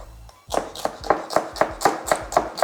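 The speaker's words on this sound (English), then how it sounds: "I'm gonna cut up the stems and the leaves" A knife chops through celery stems and leaves on a cutting board, eight to nine crisp, evenly spaced thwacks in a steady rhythm, close and clear with no talking.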